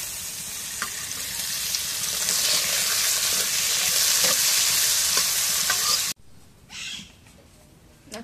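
Oil poured into a hot frying pan over chopped onion and chilli, giving a loud, close, continuous sizzle that swells and then cuts off abruptly, followed by a few faint clinks.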